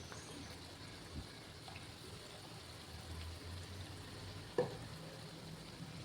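Batter-coated potato slices for bhaji frying in hot oil, a low, steady sizzle and bubbling with a couple of brief knocks, fairly faint and without speech.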